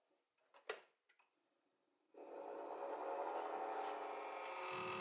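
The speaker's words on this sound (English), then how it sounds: "I used a roughing gouge to turn the blank round and down to its final diameter." After a few light knocks and clicks, a lathe starts at about two seconds and a roughing gouge turns a resin elk call blank, giving a steady close whirring scrape that continues to the end.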